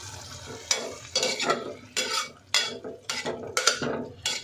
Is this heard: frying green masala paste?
yes